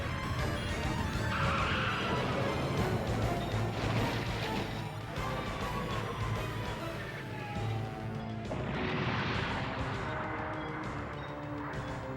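A car skids to a stop amid loud crashes and heavy impacts, a chaotic burst of noise that peaks near the start and again toward the end.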